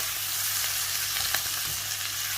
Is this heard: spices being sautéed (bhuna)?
yes